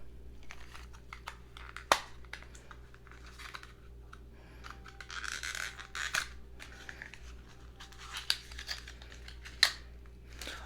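Outer packaging of a Ruby May Fairy Dust loose powder highlighter being handled, with quiet crinkles, taps and scrapes in a faint indoor room, punctuated by a few sharper clicks.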